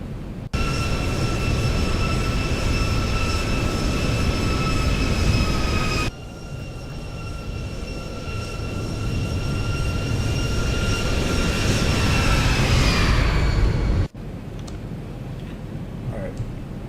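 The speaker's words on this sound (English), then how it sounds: "Let's do one last flyby. Hold your ears." A simulated aircraft makes a low flyby in X-Plane 12 or MSFS: a loud, steady engine roar with a high whine that holds for many seconds, then shifts in pitch and drops away abruptly.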